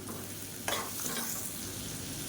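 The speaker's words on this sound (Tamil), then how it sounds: "இப்போ பாருங்கள் காலிஃப்ளவர் சேர்த்து நல்லா வதக்கியாச்சு" Cauliflower sautés in a pan with tomato, salt and spice powder, giving a steady soft sizzle with a brief louder stir or scrape partway through.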